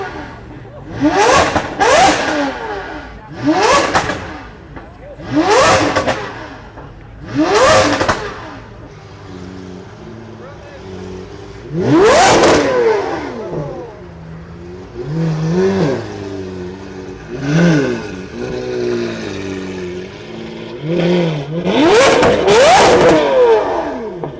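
A Chevrolet Corvette C8 at a car gathering revs hard again and again, with loud rising and falling engine bursts in a steady rhythm and a few quieter stretches between them.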